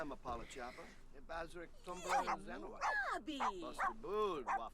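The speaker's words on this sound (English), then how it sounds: "what are you barking about?" A dog barks and yips repeatedly at close range, mixed with whiny, excited vocal noises throughout the few seconds.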